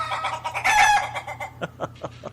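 A chicken clucks several times in close, loud, high-pitched bursts, rising into a brief crow-like squawk before settling into spaced short clucks.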